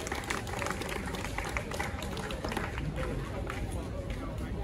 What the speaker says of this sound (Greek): θερμό σας χειροκρότημα